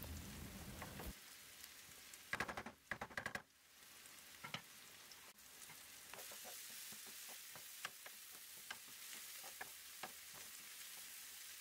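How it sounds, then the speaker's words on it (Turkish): Chopped onions and a tomato sautéing in a pan, with steady close sizzling and frying crackle, a burst of louder stirring and scraping early on, then continued even sizzle with occasional pops. "Orta kısmına bir adet domates ekliyorum ve kavurma işlemine devam ediyorum."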